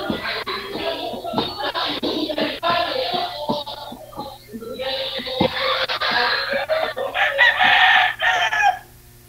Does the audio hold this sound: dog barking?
no